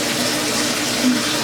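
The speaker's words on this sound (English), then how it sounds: "Fill up your sink." Hot water running from a tap into a kitchen sink, a steady broadband rushing hiss at constant level with no talk over it.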